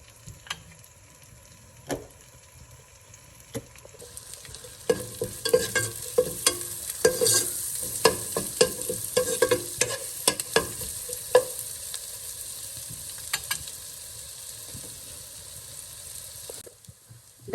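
Ingredients for homemade kottu fry in a pan, a quiet sizzle rising midway into a busier hiss with irregular spoon taps and scraping stirs, then fading near the end, no voices.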